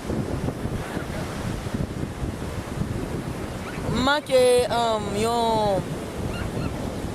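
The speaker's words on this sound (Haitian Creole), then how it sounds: "regardez vagues là, mais une belle brise là" Sea surf and a brisk breeze at a beach, with waves washing continuously and wind buffeting the microphone; a voice briefly sings or calls out midway over the steady roar.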